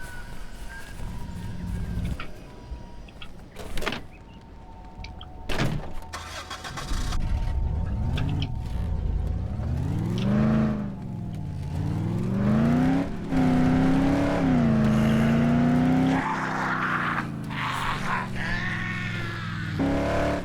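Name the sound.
getting into and driving a car, from video game Dead Island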